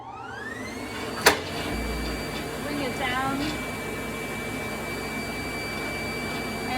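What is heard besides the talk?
screen printing vacuum table running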